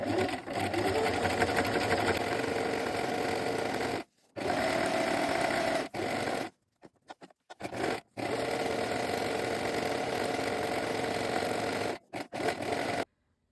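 A sewing machine runs a long gathering stitch along a dress edge, whirring steadily in long runs broken by short pauses and a few brief stop-start bursts.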